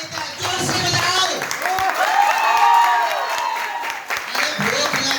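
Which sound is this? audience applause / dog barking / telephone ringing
audience applause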